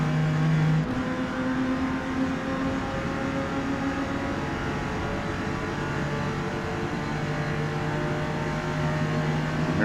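A Porsche 914-6 race car engine drones steadily in Forza Motorsport's D Class at Road America, with a loud sustained motor tone that shifts slightly as it holds speed, and no talking.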